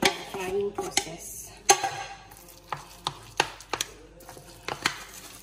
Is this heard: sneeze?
no